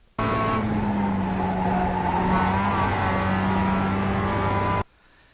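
A race car lapping the Brands Hatch circuit, its engine a loud, steady, close drone that holds its pitch with little variation, starting and cutting off abruptly.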